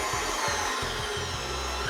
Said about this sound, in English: I'm gonna put our KitchenAid on